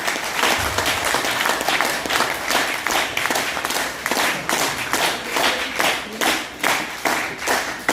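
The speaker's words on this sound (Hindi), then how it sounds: "जो जानते हैं वो जबरदस्त तालियां बजाएंगे पहले।" Enthusiastic applause from an audience at a regional team coordinator function, many hands clapping steadily and fairly loud for the whole stretch, with no talking over it.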